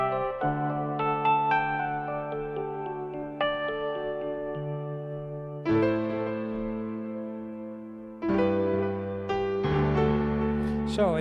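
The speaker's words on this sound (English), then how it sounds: "I'm going to go to an electric piano." Electric piano improvised on a keyboard, a simple chord progression growing more complex, with sustained chords and melodic runs entering in several waves, played alone and fairly full.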